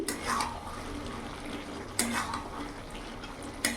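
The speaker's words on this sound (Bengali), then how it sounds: "ভালো করে নাড়াচাড়া করে নেব। লাউয়ের থেকে কত জল বেরিয়েছে।" Bottle gourd being stirred with a rohu fish head in a pot, cooked in the gourd's own released water: close, soft scraping and sloshing with a few sharper metallic clinks of the spoon against the pot, faintly sizzling underneath.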